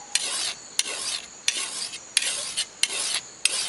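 A rat-tail file rasps along a machete blade in short, regular strokes, about six close, loud scraping passes with brief pauses between them and no talking.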